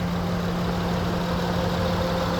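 A 2013 Honda Odyssey engine idles steadily up close, a low continuous hum with a constant drone and no other sounds.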